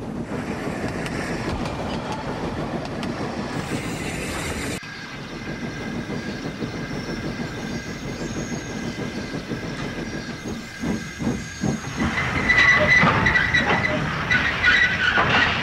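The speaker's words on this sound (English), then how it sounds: "Bert was slowly shunting his train together for the cement works when there was a familiar whistle." A goods train shunting wagons together for a cement works, with a continuous rumble and clatter of rolling wheels and couplings, rising near the end into louder clanking and a faint hiss.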